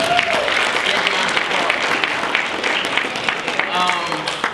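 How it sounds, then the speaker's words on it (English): Sustained applause from a student and faculty audience at a keynote presentation, a dense steady wash of clapping close and loud throughout, with some voices mixed in. "Give yourself a round of"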